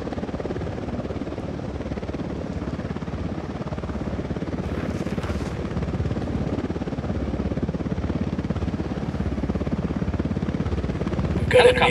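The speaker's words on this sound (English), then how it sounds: "We've got helicopter, enemy activity get down." A steady rumbling helicopter in the video game Ghost Recon Wildlands holds at a moderate distance, its continuous whir running under intermittent speech, with a brief sharp burst at the very end.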